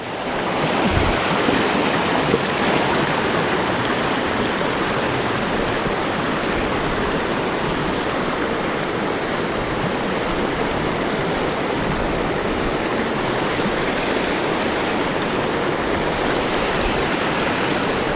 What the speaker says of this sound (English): I'm in really fast water.